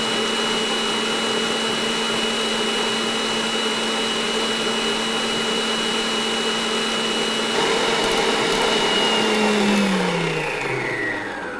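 A Kenmore Ovation stand mixer beats four egg whites in a bowl with a steady, high motor whine and whirring beaters. The pitch drops as the mixer slows near the end.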